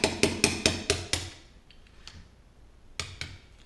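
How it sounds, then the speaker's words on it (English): Small hammer tapping a pin out of an airsoft gearbox on an E&L MK18/M4 rifle: six sharp, close metallic taps in a quick even rhythm, a pause with faint handling noise, then two more taps. "tap, small hammer."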